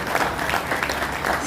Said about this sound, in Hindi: जोरदार तालियों से अभिनंदन करेंगे माननीय अमर।